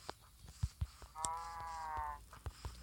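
A single drawn-out cow moo from the Minecraft video game sounds for about a second amid soft clicks and faint thumps, quiet and fairly near.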